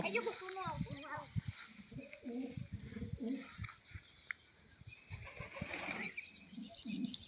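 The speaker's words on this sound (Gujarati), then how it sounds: "અંદર કબૂતરા પણ છે" Pigeons inside a well coo and flap their wings, with the sound echoing a little inside the shaft, while people talk over it the whole time.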